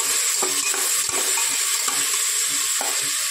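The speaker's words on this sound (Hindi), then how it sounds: "मूंग का दाल धो के रखती हूँ, इसमें रख दूंगी। तब फ्राई करूंगी।" Washed moong dal frying in a pan, a loud continuous sizzle close up with repeated scraping stirs of a spoon across the pan, no talking.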